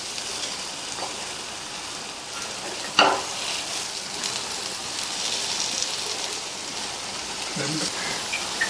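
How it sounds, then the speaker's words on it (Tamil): Sweet appam cooking in a pan after being flipped: a soft, even sizzle close by with a sharp metallic clink partway through and a faint bump later. "ஒவ்வொரு அப்பத்தையும் திருப்பி போட்டுக்கலாம்."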